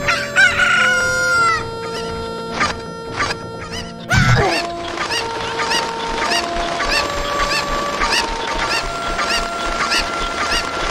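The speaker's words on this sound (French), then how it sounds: "Ou plutôt les poulets de Zelda en vrai." Chickens clucking with a rooster crowing repeatedly, several clear calls close by over a busy farmyard background, with a brief loud thump partway through.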